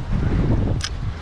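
Strong gusting wind on the Bosphorus shore at Beylerbeyi, buffeting the microphone as a loud, continuous low roar for just over a second, no voices.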